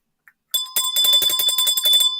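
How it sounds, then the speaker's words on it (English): A bright bicycle-style bell rings in a rapid, close, loud trill of repeated metallic strikes, alone with no talk. "Ring that bell, folks."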